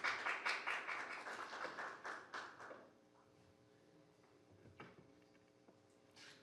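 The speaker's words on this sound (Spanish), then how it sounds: "Le damos unos aplausos" Applause for a specialist introduced at a press conference for journalists about general elections, a burst of clapping from a small audience that fades out after about three seconds, leaving a quiet room with a few faint taps.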